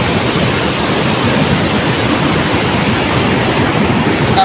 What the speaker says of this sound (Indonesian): Tapi ombaknya di sini besar-besar sekali.